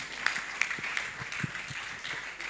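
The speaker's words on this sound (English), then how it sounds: "A round of applause for this panel." Audience applause for a panel at a financial literacy conference, a faint, thin patter of scattered hand claps with a few sharper individual claps, fairly distant and without voices.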